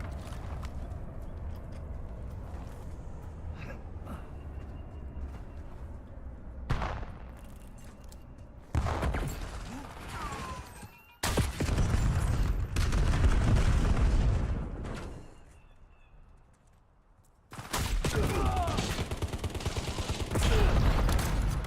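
Call of Duty gunfire and battle noise: heavy, dense volleys of shots and blasts in several loud bursts with a quiet lull between, over a low game ambience and occasional talking.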